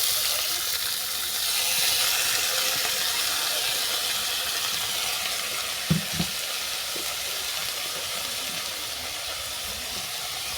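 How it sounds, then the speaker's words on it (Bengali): Chopped cabbage fries in hot mustard oil with a steady, loud hiss throughout, broken near the middle by a couple of soft knocks from stirring. "তেল গরম হয়ে গেছে এর সঙ্গে তুলে দিচ্ছি কেটে রাখা বাঁধাকপি"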